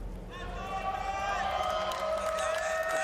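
Arena crowd at an MLG Columbus Gears of War 4 grand final, OpTic Gaming versus EnVyUs, roars steadily in a sustained wash of cheering and whoops, with a long held tone riding over the noise.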